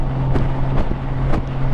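A Honda motorcycle cruises at about 80 miles an hour near 2,600 to 2,700 RPM. Its engine drones low and steady beneath constant roaring wind buffeting on the microphone, with occasional gusts.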